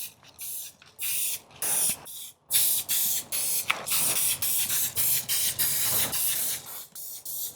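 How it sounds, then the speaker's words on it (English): Spray paint hisses onto cardboard in a rapid series of short, close bursts, with brief gaps between most of them and no voices. "I'm just really hitting the cardboard and letting it just kind of overspray"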